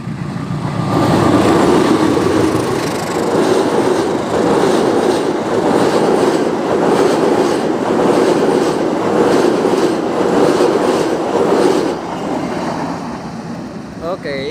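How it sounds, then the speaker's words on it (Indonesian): A local Bandung Raya passenger train passes close by, its rumble and rhythmic wheel clatter building loud and steady for about eleven seconds before fading, with a brief squeal at the end. "itu dia kereta api lokal Bandung Raya-nya ya"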